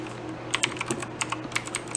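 Quick, light keystrokes on a computer keyboard as a short command is typed, a dozen soft clicks in an uneven burst close by over a quiet room hum.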